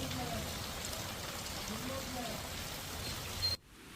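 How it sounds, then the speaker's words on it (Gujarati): Heavy monsoon rain pours around Nadiad in Anand district, a steady, even hiss of falling water that holds level before cutting off sharply near the end. "નડિયાદ સહિત આસપાસના વિસ્તારોમાં વરસાદ થયો"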